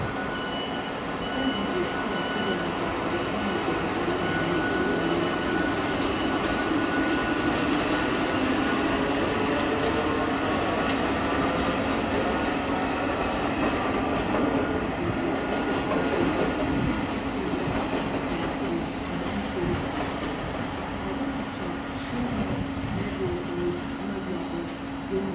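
A shunting locomotive moving train coaches at Budapest Keleti station, a continuous loud rumble of engine and rolling stock with faint clanks and a brief squeal partway through.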